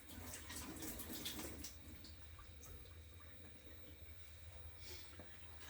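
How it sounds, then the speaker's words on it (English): Tap water runs in a faint, steady hiss and splash while potatoes for mash are rinsed in a kitchen sink, with a little handling noise and no speech. "And I'm just going to rinse my potato mash."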